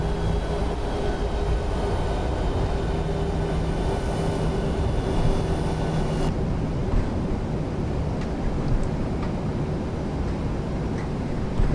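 An airliner rolls toward runway 34 right in the Prepar3d flight simulator, on an Alaska Airlines flight out of Seattle. A steady, loud engine roar with a rushing, wind-like hiss continues throughout, close, with no voices.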